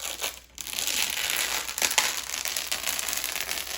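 Protective plastic film peels off a glossy black iHome NOVA Lidar robot vacuum, giving a close, continuous crinkling and rustling tear that lasts a few seconds, with no one talking.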